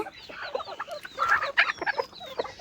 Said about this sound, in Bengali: নেটের ভিতরে কতগুলো মুরগি আছে ওখানে দিয়ে দিচ্ছি। ওরাও ছটপট করছে শাক খাওয়ার জন্য।